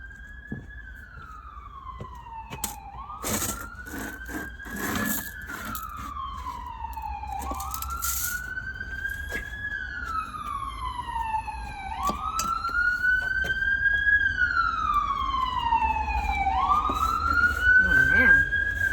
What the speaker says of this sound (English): Sorry for the ambulance, guys. The firehouse is right, super close to my house.